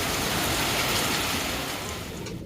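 Heavy rain pours down steadily and loudly on surfaces during a storm in Tuguegarao, a dense continuous hiss that holds for the whole stretch with no talk.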